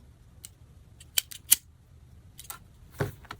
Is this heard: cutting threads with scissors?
yes